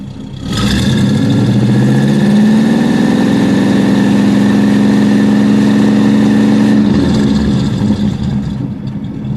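A 1947 Cadillac Series 62 engine revs up from idle into a loud, sustained roar, holds steady for several seconds, then drops back down to a rumbling idle.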